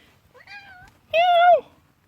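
A cat on the other side of a wall gives two meows, a softer drawn-out one followed by a louder, longer, clearer one, fairly close, with quiet surroundings.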